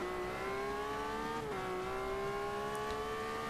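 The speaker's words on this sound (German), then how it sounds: "Zweiter Gang und aufs Gas getreten." Race car in Forza Motorsport 5 accelerating hard in second gear, a loud, close engine note climbing steadily in pitch, briefly dipping at a shift, then pulling up again with a rising whine.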